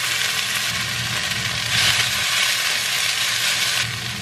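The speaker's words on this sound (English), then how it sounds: "So I'm just gonna fry up this onion until it gets caramelized" Onion frying in a pan until caramelized gives a steady, close, broadband sizzle that holds evenly throughout with no talking.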